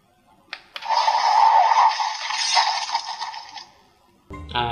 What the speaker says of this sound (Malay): Itu bunyi dia slash pedang.